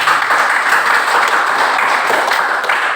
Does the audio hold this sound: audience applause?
yes